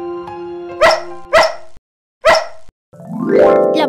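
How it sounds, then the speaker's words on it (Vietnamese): A dog barking in an animated cartoon: three sharp, loud barks spaced apart with brief silence between, followed by a drawn-out whimpering or yelping cry, close and alone. "mau sủa thật lớn để gọi người đến cứu tao đi"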